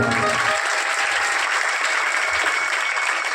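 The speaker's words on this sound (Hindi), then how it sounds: "जोरदार तालियां लगा दो एक बार।" An audience applauds loudly at a farewell song gathering, a thick continuous roar of clapping that stays strong and steady throughout.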